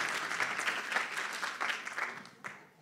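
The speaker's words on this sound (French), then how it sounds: "Merci beaucoup, on peut t'applaudir." Audience applause after a testimony talk, a dense wash of clapping hands that stays steady and fairly loud for a few seconds before thinning out near the end.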